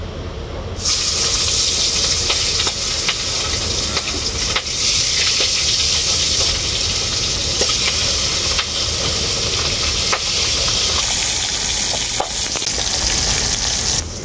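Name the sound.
pabda fish frying in hot oil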